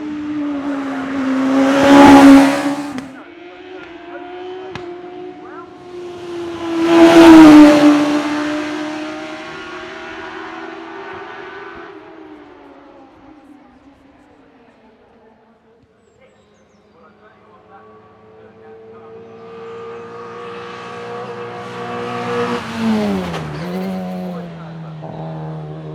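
A Ford Escort race car climbs Shelsley Walsh hill climb, its engine loudly revving through two sharp bursts, then easing off before building again with a whining rise and tire squeal, with commentary talking over it.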